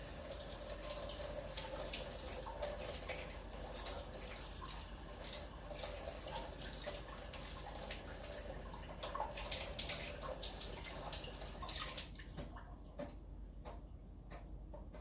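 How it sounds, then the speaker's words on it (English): Running tap water pours steadily over a fresh bunch being rinsed at a sink, a continuous close splash with faint knocks and clinks near the end. "So rinse it off because it is a little dirty when you first get it"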